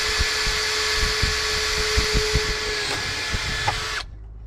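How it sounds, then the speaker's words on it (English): Power drill boring holes in a sheet of Lexan for a boat splash guard, a steady close whine with short bursts and pauses as each hole is cut, ending abruptly. "So I'll get the rest of these holes drilled."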